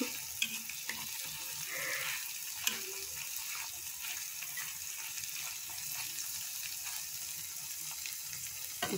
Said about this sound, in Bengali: অতিরিক্ত মাত্রায় ভাজা হয়ে এটা মচমচে হয়ে যাচ্ছে